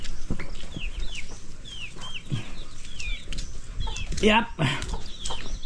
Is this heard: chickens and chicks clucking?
yes